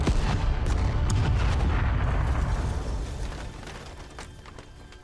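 An explosion in the video game Broken Sword: Shadow of the Templars booms loud and close, a heavy rumbling blast with crackling debris that slowly fades over several seconds.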